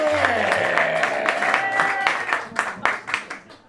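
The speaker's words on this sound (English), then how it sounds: "Please put your hands together." Audience applause welcoming comedian Luke Benson onto the stage at a stand-up show, thick clapping mixed with music and scattered loud accents, thinning out toward the end.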